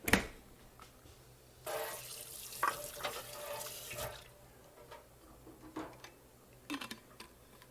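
Kitchen tap water running into a sink while dishes are rinsed during cleanup, an intermittent splashing hiss in bursts with small clinks and knocks, fairly quiet and close.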